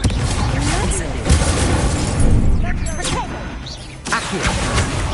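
Incendio fire spell cast in the video game Hogwarts Legacy: a loud burst and crackling whoosh with crashing, shattering impacts, dense game effects filling the whole stretch.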